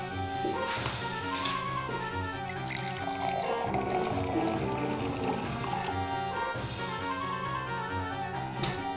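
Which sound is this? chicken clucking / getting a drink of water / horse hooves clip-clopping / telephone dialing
getting a drink of water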